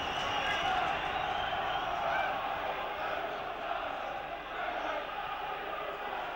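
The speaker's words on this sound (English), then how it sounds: "Crowd roaring their encouragement." Football crowd at a Blackburn Rovers versus Swindon Town match roaring encouragement as Rovers press for a corner, a broad sustained roar that swells and dips slightly, with faint commentary underneath.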